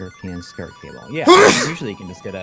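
One loud, sharp sneeze bursts out close by in the middle, while people talk before and after it.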